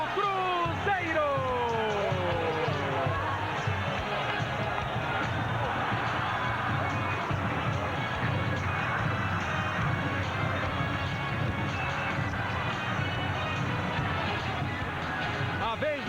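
Cruzeiro football fans cheer after a goal in a 1999 stadium match against Vasco, a broad, steady roar of crowd noise that carries throughout while a commentator talks over it.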